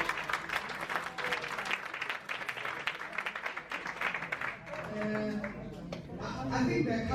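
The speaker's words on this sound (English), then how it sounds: "we need to give a round of applause for that" Audience applause at a panel during a National LGBTI Dialogue in Durban, South Africa: a crowd claps briskly and unevenly, swelling and dipping, with voices and a few shouts mixing in toward the end.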